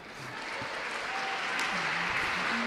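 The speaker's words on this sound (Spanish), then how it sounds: "Se lleva el aplauso de la afición." Fans in a Spanish women's basketball arena give a steady round of applause, heard somewhat distantly, with faint voices and squeaks of play under the clapping.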